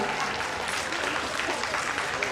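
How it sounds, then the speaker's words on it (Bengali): An audience applauds at a school's annual prize distribution, the 75-year closing ceremony. Dense, even clapping fills the whole stretch at a steady level, with a faint crowd murmur beneath. "তোমাদের হাততালি অবশ্যই দিতে হবে কিন্তু।"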